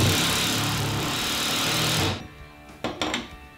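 A power drill drives a 2.5-inch screw into a floating vanity bracket, a loud, close motor whir lasting about two seconds before stopping, followed by a couple of short knocks.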